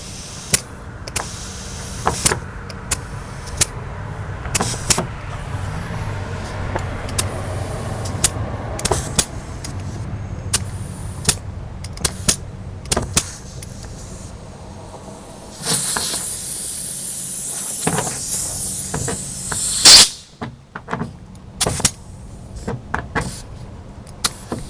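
Air hose inflating an air spring helper on a Ram 1500 truck, a steady hiss of rushing air lasting several seconds amid sparse clicks and handling noises.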